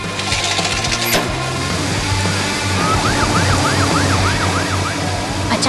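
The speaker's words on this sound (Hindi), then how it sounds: "पुलिस की सायरन गूंजती है और रिसाइकलिंग ट्रक को रुकना पड़ता है।" A police car siren wails in rising and falling sweeps, loud and close, layered over a busy mix of engine rumble and clattering.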